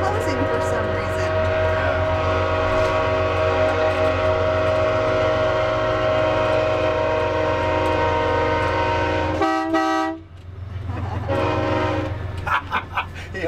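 A loud, sustained horn blares for several seconds over a deep rumbling engine, cuts off briefly, then sounds again in short bursts.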